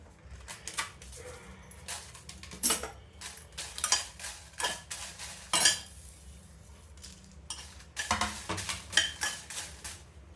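Dry red chillies are roasted in a pan for unde huli, with scattered metallic scrapes and clinks of a spoon against the pan over a low background, close and moderately loud, no voices.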